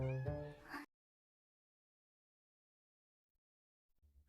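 A cat gives one drawn-out meow that opens the clip and cuts off sharply, leaving near silence with only a faint stir of sound near the end.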